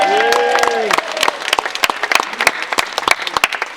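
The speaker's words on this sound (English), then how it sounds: "Give a big cheer." An audience at a ten-year celebration AGM of a lifestyle support organisation cheers briefly, then breaks into scattered, uneven clapping that thins out into separate sharp claps.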